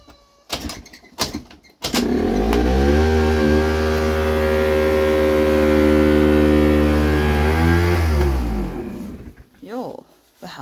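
A Kymco 50cc scooter engine kicks into life after some clatter and handling noise, then holds a loud, buzzy high idle for several seconds before dying away. Someone speaks briefly near the start and at the end.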